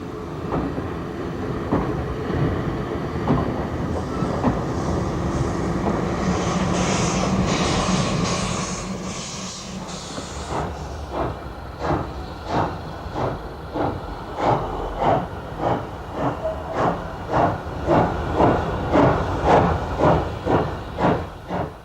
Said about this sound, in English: the Johnson tank ran forward in order to cross over to the down platform